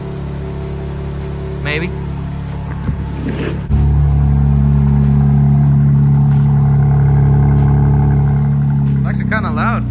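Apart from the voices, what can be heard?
car engine revving with exhaust valves open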